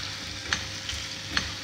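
Pork ribs sizzle as they are stir-fried in fish sauce, with a continuous hiss from the pan and a few sharp spatula scrapes and clinks at intervals.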